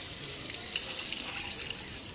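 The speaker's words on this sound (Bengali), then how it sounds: "দেখো এখন কলে চলে এসছে গাছের পাতাগুলোকে ধুতে, ভালো করে ধুয়ে নিচ্ছে" Water runs steadily from a tap as tree leaves are rinsed beneath it, a constant gushing splash heard close and at low level without any talking.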